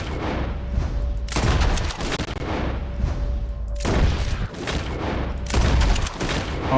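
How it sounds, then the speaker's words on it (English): Repeated bursts of gunfire in the Western video game Red Dead Redemption 2 come in several loud volleys, sharp cracks stacking into rapid fusillades with short pauses between them. "As soon as you see them, start shooting."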